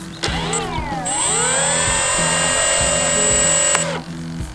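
Electric motor of an RC glider spinning up into a loud, steady whine that dips, rises again, holds for a few seconds and then cuts off, close to the listener.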